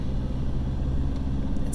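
Continuous street traffic rumble in Haiti, cars and motorbikes passing nearby as a steady low engine roar, with a brief higher noise near the end and no talk.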